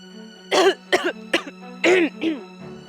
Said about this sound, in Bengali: কাশছি হইছে এবার, নাকি আরো জোরে কাশুম?